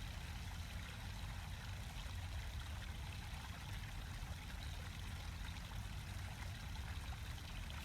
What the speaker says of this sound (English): The water is coming in from up there